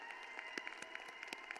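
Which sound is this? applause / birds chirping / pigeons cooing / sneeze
applause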